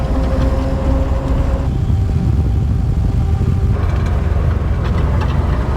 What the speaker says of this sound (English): So we're kind of just driving aimlessly through the desert